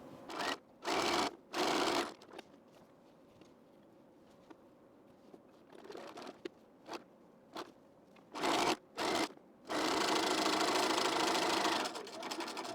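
A sewing machine stitches T-shirt sleeves to the front panels in short, close whirring bursts with quiet gaps, then one longer continuous run near the end.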